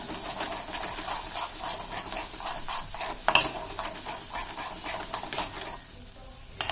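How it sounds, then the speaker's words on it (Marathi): Malai cream being stirred into paneer masala in a pan, a continuous rhythmic scraping and swishing with faint sizzle beneath, one sharper clink partway through, quieting toward the end. "ती यात टाकून व्यवस्थित मिक्स करून घ्यायची आहे."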